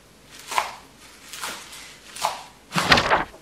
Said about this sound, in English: So let me just chop it a little bit.